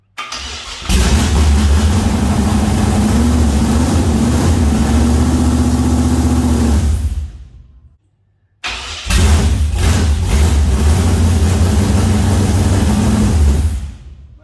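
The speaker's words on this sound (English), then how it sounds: "you going to start it for me, or if I can rev it, or do you want to rev it?" A tonner truck engine cranks and catches, then runs loud and steady with revving for about seven seconds before cutting out; after a short silence it fires up again and keeps running strongly close to the microphone.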